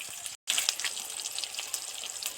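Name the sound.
eggplant deep-frying in oil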